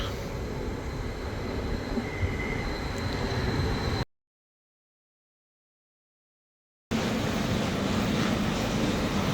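A steady rumbling roar of a passing express train, broken by a gap of silence, then the loud rushing noise resumes.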